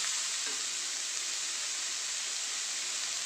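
Egg curry masala with tomato and salt sizzles in a pan while being stirred, a steady, even, hissing frying noise, close and continuous with no voices.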